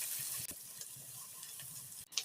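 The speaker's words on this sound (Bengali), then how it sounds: "এরপর পেঁয়াজটাকে নেড়ে চেড়ে একটু ভাজা ভাজা করে নিতে হবে" Chopped onions with green chillies sizzle in a pan, a steady bright frying hiss with soft scraping stirs, close and fairly quiet, with one sharper clatter near the end.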